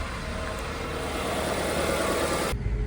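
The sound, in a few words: car engine idling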